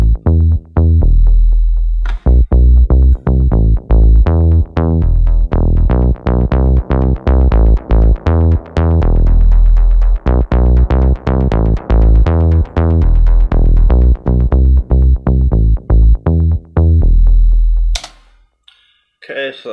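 Loud synth bass programmed in Ableton Live, with the filter opening under rising velocity and delay feedback, plays a fast, dense pulsing pattern for most of twenty seconds before cutting off abruptly.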